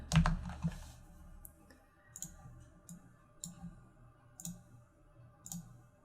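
Light, irregular clicks of keys being typed on a computer keyboard, fairly quiet and close, spaced out in small bursts across a few seconds after one louder opening knock.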